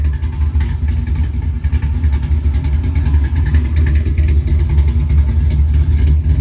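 An LS-swapped Chevy II Gasser idling loud and close, a steady, lumpy engine rumble that holds throughout without revving.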